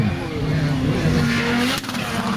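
A rally car lands from a jump and slides on a Scandinavian rally stage, its engine note holding steady before a brief skid and thump, heard at moderate distance.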